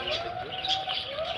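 Small birds chirp and twitter continuously in a zoo aviary among lovebirds, cockatiels and budgerigars, a busy close chorus of high tweets with a soft coo-like undertone.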